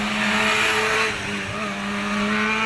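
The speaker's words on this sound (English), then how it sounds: "It's Honda CBR just completing past the finish line." Honda CBR motorcycle at the Southern Eliyakanda hill climb racing past the finish line, a loud continuous engine wail with shifting pitch and a brief dip mid-pass, with no talk.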